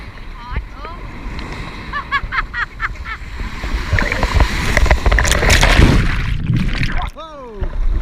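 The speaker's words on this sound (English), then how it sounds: "The waves just kind of knock you around." Ocean waves surge and crash around kayakers at St. Joseph Peninsula State Park in Florida, rising to a rushing roar with splashes, while people talk, shout and cheer throughout.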